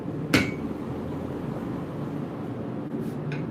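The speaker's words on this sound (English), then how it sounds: "Got the big hammer ready to go." A big hammer strikes once on hot steel while a Bowie knife is forged, a single sharp ringing blow near the start followed by a faint second tap over steady forge or shop hum.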